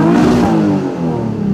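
A car engine revving hard while driving, a steady loud roar with rising and falling pitch, close and alone.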